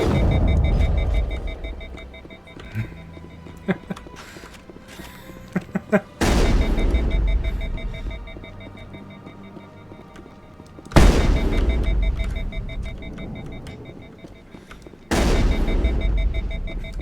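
Sniper gunfire in the video game Mass Effect: loud booming shots land several seconds apart, each followed by a long rumbling tail, with scattered smaller game sounds in between.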